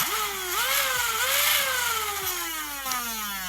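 A flywheel blaster's small electric motor whines and revs up, its pitch sweeping higher and dropping in repeated surges, loud and close with no talking.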